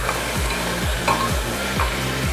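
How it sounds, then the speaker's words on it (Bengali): Garlic being stirred in a hot pot for chicken stew: a steady frying sizzle with rhythmic scraping strokes of the spoon repeating roughly every half second, close and alone. "দিয়ে আবার ভালো করে নাড়তে হবে।"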